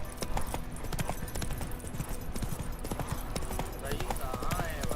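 Roach the horse gallops in The Witcher 3: Wild Hunt, steady close hoofbeats running throughout with game ambience and music underneath and a short whinny-like sound near the end; a voice speaks over it.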